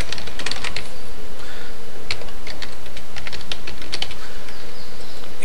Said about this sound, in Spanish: Estoy poniendo mi contraseña.